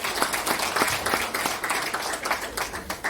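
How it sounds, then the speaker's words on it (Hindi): Audience clapping at a university job fair inauguration in Mewar, steady dense applause from a crowd filling the room, moderately loud and sustained throughout. "एक जोरदार तालियां बजाकर अपने आप का स्वागत करिए"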